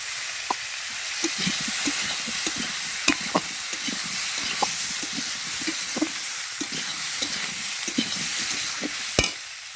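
Fish frying in a pan with potato and tomato as turmeric powder is stirred in: a steady, close sizzle runs throughout, broken by frequent sharp scrapes and clicks of the spoon against the pan, with no voices.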